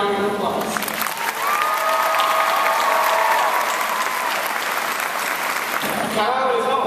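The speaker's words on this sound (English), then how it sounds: "Please give them a round of applause" Loud, enveloping applause from a graduation crowd honoring the teachers of the Calallen class of 2012, continuous clapping mixed with cheering voices and a sustained whistle-like tone, fading slightly before a final burst.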